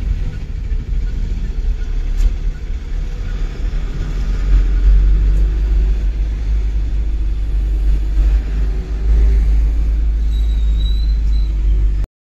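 Low, steady engine rumble as a car rolls through the Annavaram road checkpoint, the sound swelling and holding near the vehicle with a faint high whine and scattered clicks, and no voices.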